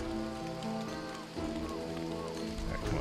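Rain in the video game Don't Starve: Reign of Giants falls steadily as a soft, continuous patter beneath game music tones, with no talking.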